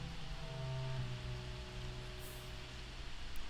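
Steady rain in a video game, a dense even hiss running unbroken from start to finish with a low rumble beneath and faint tonal hums layered in, no voices over it.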